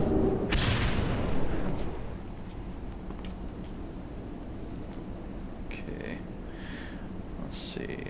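World of Warcraft rogue game effects as Burst of Speed and then rocket boots are triggered: a loud booming whoosh at the start, then quieter shimmering chimes and a bright burst near the end over a steady low background.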